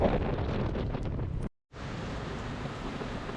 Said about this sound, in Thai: ตกหนักเลยนะครับ ลมแรงด้วยผมเลย จอดหลบก่อนนะ